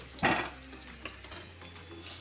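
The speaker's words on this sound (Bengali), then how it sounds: "আলুগুলো ভাজা হয়ে গেছে চলো নামিয়ে নিই আলুগুলো" Potatoes frying in oil for a mutton curry, with a brief loud stir or clatter near the start followed by a soft, low sizzle with small scraping sounds.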